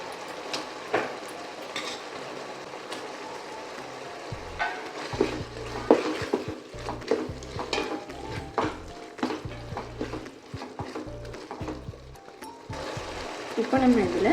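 Tomatoes fry and are stirred in a pan, with soft sizzling and intermittent clinks and scrapes of a spoon against metal, while a person talks over much of it.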